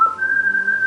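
A whistle voice on a black Excelsior Digisyzer analog synthesizer plays one steady, pure, high tone. It sounds clear and sustained, with nothing else behind it.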